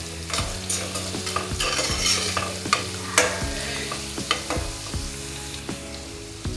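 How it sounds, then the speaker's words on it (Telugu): Coriander powder fries with ginger garlic paste in a pan, giving a steady sizzle broken by repeated scraping strokes of a spoon, heard close and alone. "1 స్పూన్ ధనియా పౌడర్ వేసుకొని ఫ్రై చేసుకుందాం."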